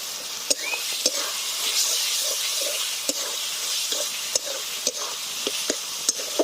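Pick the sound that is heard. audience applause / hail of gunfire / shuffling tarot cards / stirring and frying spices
stirring and frying spices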